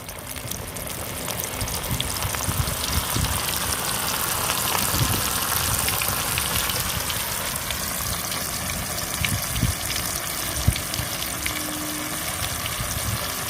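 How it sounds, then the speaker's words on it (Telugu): Mutton keema vadas coated in gram flour frying in hot oil, giving a loud, continuous, hissing bubble that runs steadily throughout with a few brief pops, close by, with no talking. "ఇలా ఒక్కొక్కటి ఫ్రై చేసుకోవాలి."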